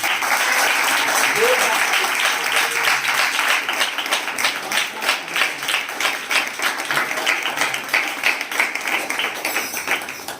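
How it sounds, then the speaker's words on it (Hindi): Loud, sustained applause from a church congregation fills the room, dense rapid clapping holding steady throughout with faint voices mixed in. "पवित्र आत्मा के लिए एक जोरदार ताली बजाएं।"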